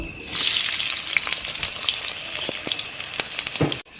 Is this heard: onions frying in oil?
yes